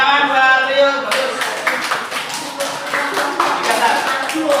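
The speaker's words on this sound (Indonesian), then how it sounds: "Oke, tepuk tangan buat Rio." A class applauding a student named Rio, a burst of scattered hand claps following a brief spoken instruction, lasting several seconds with uneven rhythm.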